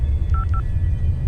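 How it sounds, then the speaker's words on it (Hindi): A telephone number is dialed on a phone, two short touch-tone beeps in quick succession over a low steady hum, with no voices. "नीचे दिए गए बार्बी हॉटलाइन नंबर पर फोन मिलाने लगी"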